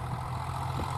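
A John Deere 3029 three-cylinder diesel, 106 x 110 mm pistons and 55 horsepower, powering a tractor with an eight-disc plough; a steady, close, low rumbling engine drone holds constant without pause.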